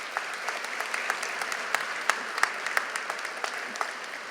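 Applause at a college graduation ceremony in a large hall, a thin, fairly distant patter of clapping from the audience with a few sharper individual claps standing out, continuing steadily for several seconds.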